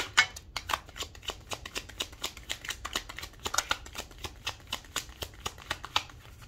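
Tarot cards being shuffled and drawn: a long run of crisp, evenly spaced card snaps and flicks, close and steady throughout, with no voices.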